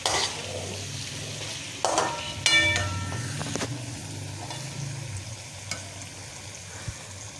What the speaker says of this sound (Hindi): अब हम भिंडी को जो है थोड़ी देर फ्राई करेंगे, 2-4 मिनट